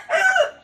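A single desi rooster crows once on a small poultry farm, a short, loud, close call standing alone.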